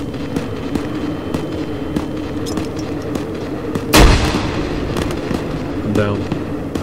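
A single loud flashbang grenade bursts about two-thirds of the way through, set in a 1990s Navy SEALs game scene in winter Russia, over a steady bed of background noise with voices talking.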